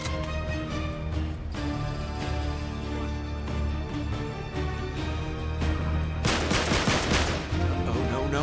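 Shotgun fire in Uncharted 3 from enemy shotgunners: repeated loud blasts in rapid bursts, with the densest run of shots near the end amid other gunfire.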